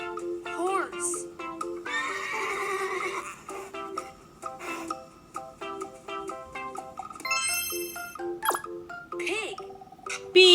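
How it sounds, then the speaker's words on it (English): Horse neighing and whinnying in a children's farm-animal lesson, several shrill, quavering calls spread across the stretch, close and fairly loud, mixed with bright tonal chimes and jingles. "Horse. Horse."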